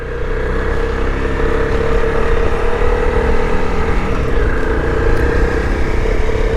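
A Honda CRF 300 dirt bike is ridden off-road in desert canyon country, with a steady, loud engine drone and continuous wind and tire rumble that hold throughout, without pronounced revving peaks.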